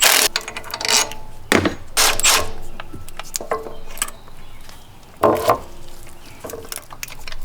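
A ratchet with a 12mm socket being worked on the throttle body of a Toyota Camry 5S-FE four-cylinder engine, giving close, intermittent bursts of clicking and metallic scraping.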